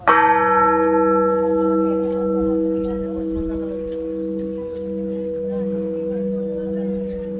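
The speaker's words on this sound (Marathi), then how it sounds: "ही घंटा वाजवल्यावर त्या घंटेचा नाद त्या पूर्ण परिसरामध्ये घुमत असतो" A large bronze bell at Menavali Ghat in Wai is struck once, its deep, rich tone humming and ringing on for several seconds as it slowly fades.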